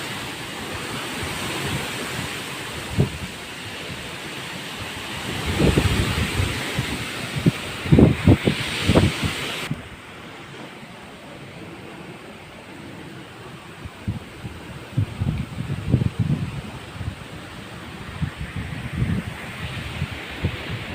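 Gusting wind roars steadily with hissing rain, rising and falling in strong bursts, no talking.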